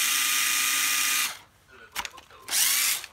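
A used cordless drill runs at a high whine, cuts out, gives a few short uneven bursts, then spins up loudly again, close up, as its speed is varied.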